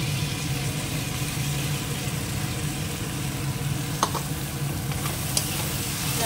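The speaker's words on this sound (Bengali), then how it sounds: "পোস্তটা একটু ভেজে নিই, পোস্ত কাঁচা গন্ধটা চলে যাবে তাহলে" Poppy seed and green chili paste fry in a pan with a steady dense sizzle heard up close, a couple of brief clinks near the end, and no voices.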